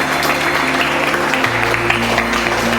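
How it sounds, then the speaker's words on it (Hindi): Students clap together in a classroom, a dense burst of applause that holds steady and fairly loud for a few seconds with a low hum beneath. "जोरदार तालियां बजाइए"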